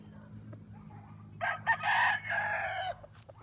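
A rooster crows once in a long, drawn-out call over steady low farmyard background noise, with a faint cluck or two before and after.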